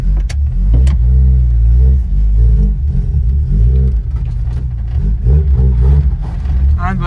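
A Vauxhall Nova pulls off a driveway in first gear, its engine rumbling loudly and close with shifting revs, and a voice talks over it.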